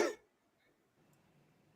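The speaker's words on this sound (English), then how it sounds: "That comment made me cough and sneeze at the same time." A single sharp cough bursts out at the very start, loud and close, then fades into near silence with faint room noise.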